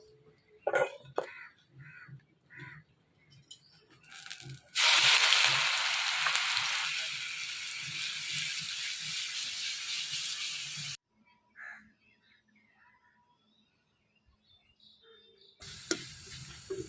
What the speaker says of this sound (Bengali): আমি এখন এই বাকিগুলো আস্তে আস্তে ভেজে নেব